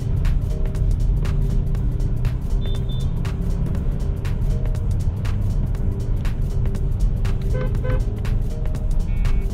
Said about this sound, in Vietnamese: một chút tiếng ồn chúng ta vẫn nghe thấy, những tiếng động cơ, những cái tiếng ồn phản hồi dưới mặt lốp